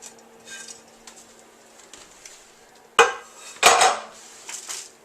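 Homemade granola tumbles out of a bowl onto a heavy-bottomed baking sheet, two loud clattering pours of dry clusters against metal, followed by lighter scrapes and clinks of a utensil.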